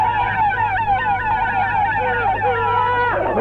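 An ambulance siren wails in a loud, steady up-and-down sweep, passing close before dropping away at the end, with no talk over it.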